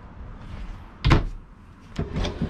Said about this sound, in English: Little angled slide out door, non-slam.